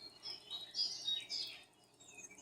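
A budgie chirps in a quick, irregular run of high, thin tweets, close and fairly quiet, with no talking.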